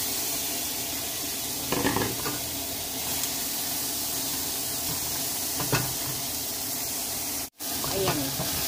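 Garlic, onion and shrimp paste sizzle steadily in a hot pan for a Filipino pinakbet, a constant frying hiss broken by a few scraping stirs, with a speaking voice now and then.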